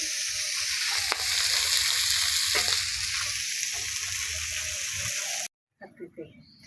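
Loud, continuous sizzling of small fish (tela and puti) frying in hot oil, steady throughout before stopping suddenly near the end, followed by a few faint sounds.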